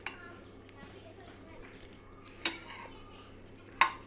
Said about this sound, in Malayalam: ബ്രെഡ് ചൂടായി വരുമ്പോഴേക്ക് തിരിച്ചിട്ട് കൊടുക്കാം.